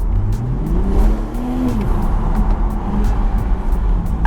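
BMW Z4 M40i engine revving in sport mode, heard from the cabin as a rising, swooping engine note that climbs and falls under steady road rumble, with small ticks throughout.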